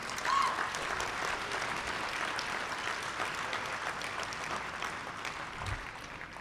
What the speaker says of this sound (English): So I'd like a round of applause for all those people